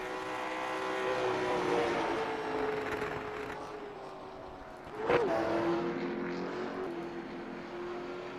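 Race cars at USA Speedway run laps in a steady, continuous engine drone that swells and fades as they pass, with one closer car sweeping by loudly partway through.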